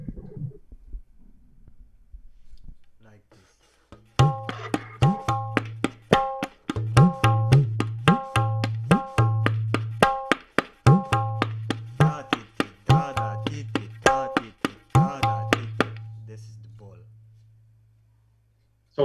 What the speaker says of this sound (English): if you would play that on tabla, it will sound like this.